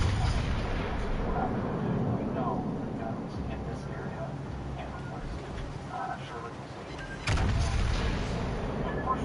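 Heavy naval guns fire from a battleship in a PS4 naval combat game, deep booming blasts rumbling under a constant low drone, with one sharp close report near the end, while someone talks over it.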